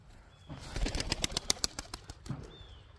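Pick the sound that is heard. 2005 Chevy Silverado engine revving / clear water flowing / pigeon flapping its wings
pigeon flapping its wings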